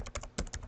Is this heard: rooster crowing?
no